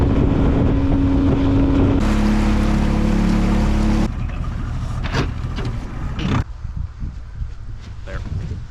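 A motorboat's engine drones steadily as it rides across cold water near an island, the hull slapping waves and wind buffeting the microphone, the pitch shifting as the throttle changes.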